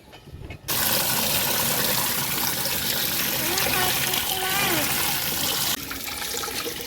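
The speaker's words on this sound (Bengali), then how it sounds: "কলটা খুলে এরকম হাতটা দিয়ে দাঁড়িয়ে আছে" A rooftop garden tap is opened and runs steadily, a loud close gush of water splashing that starts suddenly and drops away near the end, with a voice faintly heard.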